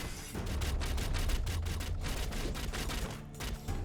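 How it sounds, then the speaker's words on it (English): Spells fire in rapid bursts in the action roguelite Shardbreakers, a dense, steady barrage of close, crackling gunfire-like shots layered over game sound, continuous and loud throughout, with no talk. "Just keep strafing. Just keep sniping."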